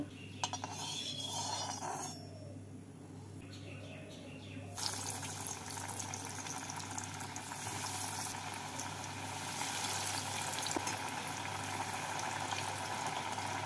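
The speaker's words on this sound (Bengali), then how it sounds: "এবার গ্যাসটাকে মিডিয়াম ফ্লেমে রেখে কাটলেটগুলো ভেজে নেব।" Paneer cutlets sizzle and bubble in hot white oil in a wok over a medium flame, a steady frying hiss that swells louder partway through and keeps going without a break.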